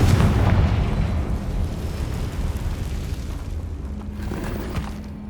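A Confringo spell blast in the Hogwarts Legacy video game opens with a loud, low boom that decays into a long rumbling tail, with faint debris crackle near the end and no talking.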